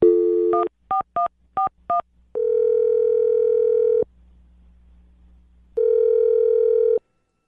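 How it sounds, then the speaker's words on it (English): Dialing a phone number: a brief tone, then five quick touch-tone beeps and a steady tone, a quiet gap, then the tone returns for about a second. Clean and loud, with no talking. "I'm going to dial her phone number right now"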